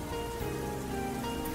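Rain falls steadily outside, a continuous even hiss of drops with faint radio music playing underneath and no talking.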